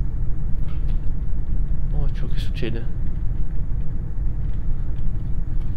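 Truck engine in Euro Truck Simulator 2 on a drive from Norway to Sweden, a steady low rumble running the whole time beneath someone talking.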